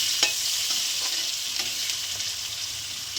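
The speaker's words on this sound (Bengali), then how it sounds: "হাফ বাটি পেঁয়াজ দিয়ে দিলাম। পেঁয়াজটা ভেজে নেব।" Onion frying in oil with cloves and cumin for mutton biryani, a steady close hiss of sizzling with faint periodic stirring ticks, no talking.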